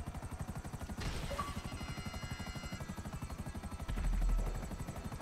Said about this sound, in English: Oh, we got a helicopter after me.